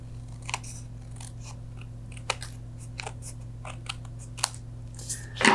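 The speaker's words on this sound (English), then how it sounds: "I feel like I need a little bit more to guide my scissors" Sharp scattered snips of scissors cutting card stock along a folded edge while making a card, a handful of crisp separate cuts over a steady low hum, close and fairly quiet, with no talking.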